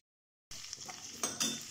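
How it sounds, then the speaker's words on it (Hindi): Broccoli frying in a pan and being stirred, soft sizzling with scraping stir strokes after a brief silence at the start, quiet and close. "ये हमारी ब्रोंकली बिल्कुल फ्राई हो चुकी है"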